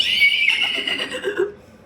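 A man imitates a horse's neigh with his voice, a high, shaky whinny that wavers and drops in pitch over under two seconds, close and fairly loud.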